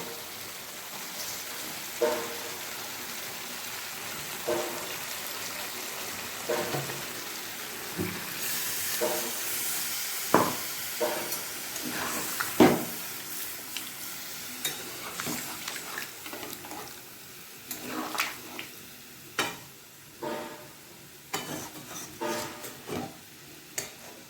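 Cauliflower roast sizzles and hisses steadily in a pan after water is poured in, with intermittent clicks and taps of stirring and utensils against the pan over a soft, continuous frying background.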